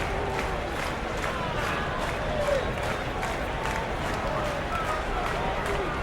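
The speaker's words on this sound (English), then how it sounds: "A little life in this Baltimore crowd." Video game crowd noise from Action PC Baseball, a 1977 Rangers versus 1970 Orioles game in Baltimore: a constant dense roar of spectators with rhythmic clapping accents, loud and steady throughout.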